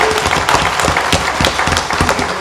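An audience claps in a crowded discussion hall, a dense, loud patter of many hands that continues steadily throughout.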